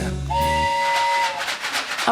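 A loud steam whistle shrieks once in a sustained, steady tone lasting about a second, followed by hissing steam and a soft chuffing.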